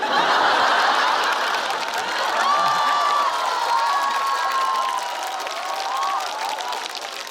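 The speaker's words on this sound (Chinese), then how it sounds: "你们鼓掌了" Crowd applause with scattered cheers and laughter, fairly loud and sustained, fading slightly toward the end.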